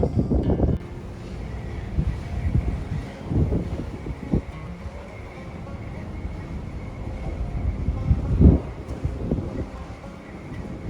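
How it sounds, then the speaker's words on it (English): Strong, cold wind in Christchurch buffets the microphone in heavy rumbling gusts, rising and falling throughout with a constant roar behind. "It's also quite windy, as you can probably hear, and quite cold."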